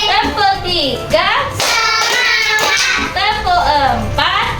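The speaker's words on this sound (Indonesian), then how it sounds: "tepuk 1, tepuk 2, tepuk 3," Rhythmic hand clapping in a counted clapping routine, sharp claps falling between loud, close voices chanting the count in a sing-song pattern.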